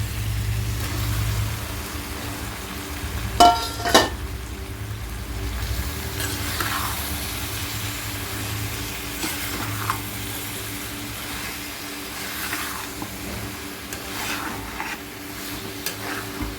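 Boiled broad beans and potatoes fry in a pan for curry, giving a steady, moderate sizzle with occasional stirring clinks and scrapes, a low hum running underneath.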